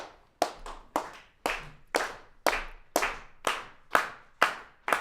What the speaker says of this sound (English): If you can help me clap.